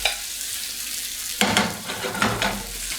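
Vegetables frying with butter in a pan beside a rack of lamb, a steady close sizzle that jumps into louder crackling and stirring bursts partway through, with no talk.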